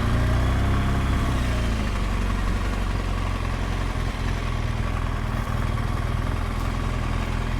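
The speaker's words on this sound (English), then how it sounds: "Oh, very old Sportster." An old Harley-Davidson Sportster motorcycle engine idles steadily and loudly outdoors at a market in France, a continuous low rumble with no talk over it.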